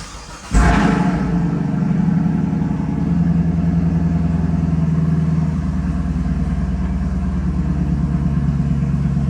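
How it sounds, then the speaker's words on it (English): A 2021 Camaro SS 1LE V8 cranks and fires at about half a second, then settles into a steady, loud, deep rumbling idle that runs unbroken to the end, with no voices. "So now let's plug in the battery, start the car, and see how it works."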